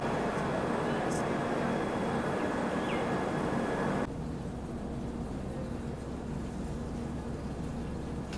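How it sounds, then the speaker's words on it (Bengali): Heard from inside an AC two-tier coach, the 12346 Saraighat Express pulls out of New Alipurduar Junction with a steady, loud rumble and hiss that drops to a quieter, even drone partway through. "কুড়ি মিনিট লেটে ট্রেন ছেড়ে বেরোচ্ছে নিউ আলিপুরদুয়ার জাংশন"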